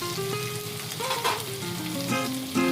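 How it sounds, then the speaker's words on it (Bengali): Flat beans sizzle steadily in a pan with black cumin over a medium flame, a continuous close frying hiss with light stirring noises and no talk. "থেকে মিডিয়াম ফ্লেমে আমরা সিমটাকে ভেজে নিচ্ছি"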